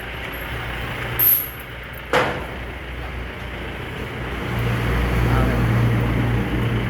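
A lorry lets out short, loud hisses of air brake release over a steady low diesel rumble that swells near the end. The setting is a worksite with a concrete mixer, and voices are faintly audible.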